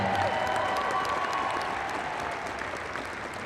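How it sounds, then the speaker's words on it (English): Sustained applause from an arena audience honoring two dozen 12- and 13-year-old boys at a national free-throw shooting final, steady and broad throughout with a slight fade toward the end. "let's give all 24 of these 12, 13-year-olds a round of applause"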